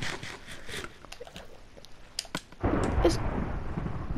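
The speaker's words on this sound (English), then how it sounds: "that actually scared me, that thunder and lightning" Thunder in Minecraft during a storm, a sudden loud rumbling crash that swells and lingers after scattered clicks and quieter game sounds.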